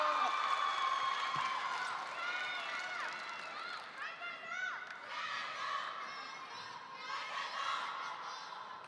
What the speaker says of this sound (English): We got battle chanting in the crowds right now.